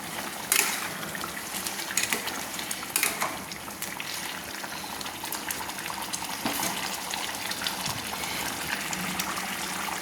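Liver curry simmering in a pot on a gas stove, a steady bubbling and gurgling with irregular pops and spatters throughout, close and fairly loud.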